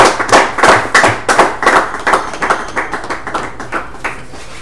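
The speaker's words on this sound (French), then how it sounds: "on peut acclamer, on peut acclamer" An audience applauds in a burst of clapping that starts strong and thins out over a few seconds, the individual claps becoming sparser and quieter.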